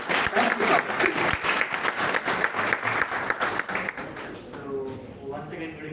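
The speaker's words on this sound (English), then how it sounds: "Can you have a long round of applause for Samuel?" A crowd at an oratory contest applauds loudly for several seconds, the clapping dense and continuous before fading out as a voice begins speaking.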